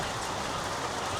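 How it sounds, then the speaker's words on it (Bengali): Rain pours down steadily as a dense, even hiss with no breaks over a short stretch, and no voices are heard. "ফাইনালি বৃষ্টি আইসা পড়ছে, সুন্দর বৃষ্টি।"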